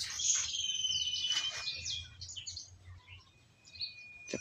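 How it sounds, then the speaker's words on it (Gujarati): Sparrows chirp in a rural farm setting with maize fields and mango trees, a run of short bright tweets and trills at moderate distance, most active early on and thinning out later. "ચકલાનો અવાજ આવે છે, છી છી છી છી"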